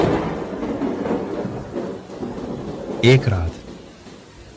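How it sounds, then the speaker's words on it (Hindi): Thunder rumbles through a heavy monsoon downpour pounding tin roofs over a city, with one loud crack of thunder in the middle as a voice narrates over the storm. "बारिश टिन की छतों पर बरस रही थी और बिजली आसमान को चीर रही थी"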